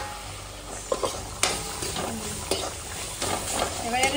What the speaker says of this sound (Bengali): কমলি শাকটা যখন হয়ে আসবে সামান্য একটু চিনি দিয়ে নেড়ে ছেড়ে দিই